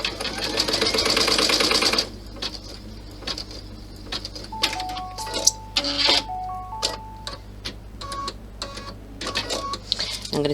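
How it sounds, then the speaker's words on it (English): An embroidery sewing machine stitches a clutch design, opening with a fast, steady burst of stitching, then switching to slower clusters of clicks and ticks with short beeping tones, all close and alone. "I'm holding it in place while it stitches."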